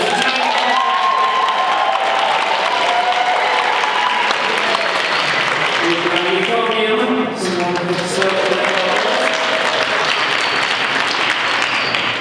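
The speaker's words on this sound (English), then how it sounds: "Round of applause if this is your favorite." A large audience at a Tuba Christmas brass concert in Duluth, Minnesota, applauds and cheers in a steady, dense roar lasting the full stretch, loud and continuous with scattered whoops rising above the clapping.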